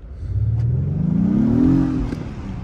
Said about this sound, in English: I'm going to see if we can hear the turbo a little bit